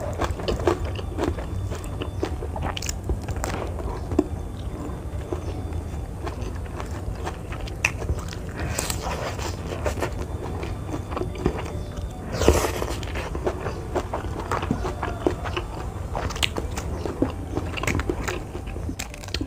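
Raw eggplant is bitten and chewed close to the mic during an Indonesian mukbang, with crunchy bites and steady mastication running throughout and one louder crunch midway; no talking.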